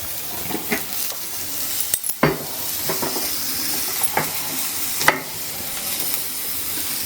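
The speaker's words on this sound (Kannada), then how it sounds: "ಒಂದು ಸ್ವಲ್ಪ ಹಸಿ ಬಟಾಣಿ ಹಾಕೋತಾ ಇದ್ದೀನಿ." Fresh green peas tipped into masala rice sizzling in a hot pan, a steady frying hiss with scattered spoon scrapes and clinks against the pan, no talking.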